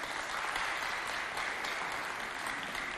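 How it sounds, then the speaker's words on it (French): Applause from an audience at a live show in N'Djamena, a dense, even patter of clapping heard at a distance and fairly quiet, continuing unbroken throughout. "Applaudissez pour vous."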